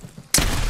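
A burst of automatic gunfire in the Apex Legends battle royale game cuts in sharply after a quiet moment and carries on as a loud, dense spray.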